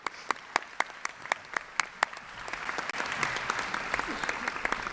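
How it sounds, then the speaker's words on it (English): Audience applause at a 2016 State of the City address, beginning as a few sharp, separate claps and swelling into a dense, sustained ovation from the crowd. "I think that is certainly worthy of an applaud there."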